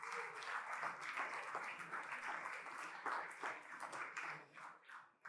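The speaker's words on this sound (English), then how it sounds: "One more round of applause for Will," A story slam audience gives Will a round of applause, steady clapping that fades out toward the end, heard from a distance and fairly quiet.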